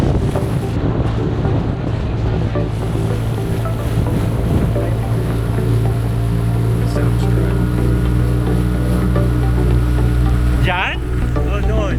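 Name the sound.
inflatable boat with outboard motor on Caddy Lake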